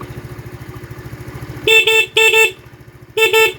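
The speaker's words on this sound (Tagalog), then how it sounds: "Busina." Over the low idling putter of a Rusi Flex 125i motorcycle, a bright horn honks three short times, the second pair of blasts coming after a brief pause.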